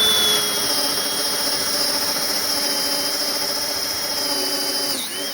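A Spectral step bit in a power drill bores through wood with a loud, steady high-pitched whine that holds for about five seconds before it winds down and cuts off near the end.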